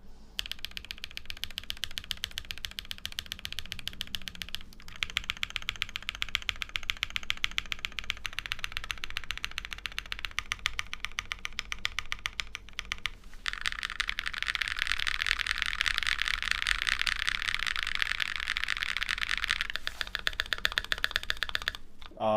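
Rapid typing on a modded Thera75 mechanical keyboard, close and steady clacking keystrokes with a slight rattle, growing louder and denser toward the end, with no talking over it.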